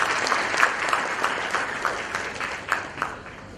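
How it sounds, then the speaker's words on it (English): Moderate applause from the audience at a community educational merit prize awards ceremony, steady clapping with a few louder individual claps standing out, sustained throughout and without talk. "A round of applause for all of them."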